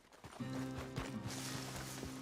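Horse hooves clip-clopping in Red Dead Redemption 2, a quick rhythmic run of hoofbeats starting up close over a steady humming game background.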